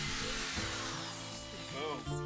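A power drill boring into a guitar body while a fuzz guitar is built, whining and grinding in bursts with pitch shifts as the bit bites, close and loud, with someone speaking over it.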